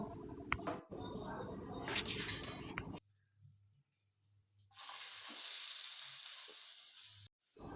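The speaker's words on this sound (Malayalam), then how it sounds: "അതേ ചട്ടിയിൽ തന്നെ ആ സവോളയൊക്കെ ഒന്ന് വഴറ്റിയെടുക്കാം ആ എണ്ണയിൽ തന്നെ വഴറ്റിയെടുക്കാം" Sliced onions sauté in hot oil in the same pan used earlier for frying fish, giving a steady close sizzle that drops away for a couple of seconds mid-clip before returning loud.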